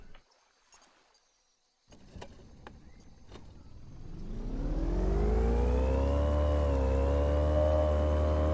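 Boat motor in the fishing game Fishing Planet, starting after a few clicks and then revving up into a steady, loud, droning hum that holds with slight pitch shifts, with no talking.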